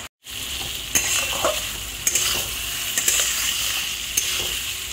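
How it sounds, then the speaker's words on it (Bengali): Pointed gourd fried with black cumin seeds in oil and stirred in a pan: continuous close sizzling with periodic scraping clicks of a spatula against the pan, roughly once a second, no voices. "এটাকে আবার একটু মিশিয়ে নিচ্ছি, একটু নাড়িয়ে দিচ্ছি।"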